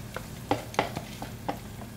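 Rinsed parboiled rice being stirred in a pot for Cajun chicken and rice, giving a run of soft, wet scraping strokes about every quarter second, close by with no one talking.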